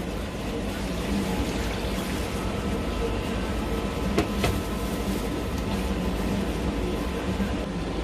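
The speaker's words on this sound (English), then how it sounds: "Water, 1 jar of water again." A jar of water is poured into a pot of macaroni chicken ball soup with vegetables, making a steady, fairly loud rushing wash that runs without a break for about eight seconds.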